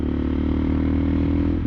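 A Suzuki DR650 motorcycle's single-cylinder engine drones steadily under throttle during a test ride, a loud, continuous close-up hum with a faint rise at the end and no talk.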